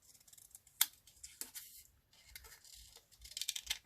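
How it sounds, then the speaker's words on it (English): Scissors trimming paper for a collage, several sharp close snips and rustles of the sheet spread over a few seconds, with a quicker flurry of cuts at the end. "I'm just going to trim that spiky bit off there"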